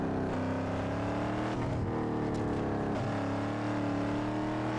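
Exhaust of a Ford Mustang GT 500 in the racing game Need For Speed Underground 2, a steady, loud engine drone with shifting pitch as it revs and changes gear, with no talk over it.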